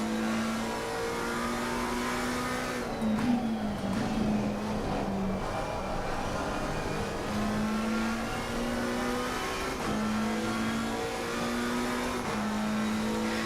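A race car in Assetto Corsa Competizione at Watkins Glen, engine droning steadily at high revs with a brief blip and pitch dip as it shifts down to third, loud and continuous throughout.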